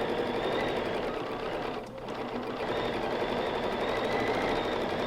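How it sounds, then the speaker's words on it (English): Sewing machine running continuously while stippling quilting on a table runner, a fast, even, close mechanical chatter of stitches with only a brief dip in speed, no talk. "I'm going to take just a couple of stitches in place to secure my threads, and then I'm going to start, and on this I am going to do a little stippling stitch"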